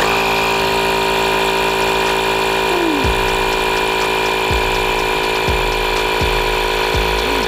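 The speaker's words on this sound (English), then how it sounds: "Time to pump some air into our airbags." An electric air pump inflating the suspension airbags on a Toyota Sequoia tow rig, a loud steady mechanical drone with a high whine, interrupted by several short dips as the pump cycles.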